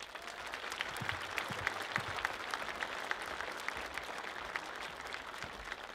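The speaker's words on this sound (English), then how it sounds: "Please give them a nice round of applause." A crowd at a high school commencement ceremony gives a round of applause for teaching faculty and support staff, a steady, moderately distant patter of many hands holding even for about six seconds.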